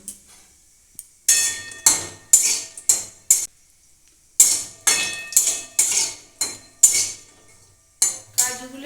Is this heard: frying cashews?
yes